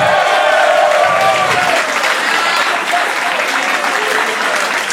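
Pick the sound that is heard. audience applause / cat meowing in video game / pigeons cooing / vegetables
audience applause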